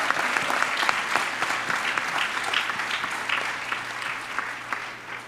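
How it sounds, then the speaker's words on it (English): A retreat gathering applauds a horn-playing musician, steady moderate clapping from a modest crowd that carries on for several seconds before tapering off slightly at the end. "Please give a round of applause for Donicio."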